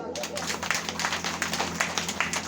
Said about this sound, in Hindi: ठोक दो ताली इसी बात पे